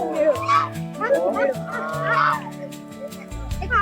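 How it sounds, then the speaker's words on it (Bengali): Geese on the water near a great banyan tree give three or four nasal honking calls spread across a few seconds, over a steady background hum and faint murmur. "এখানে কত সুন্দর হাঁস, দেখো,"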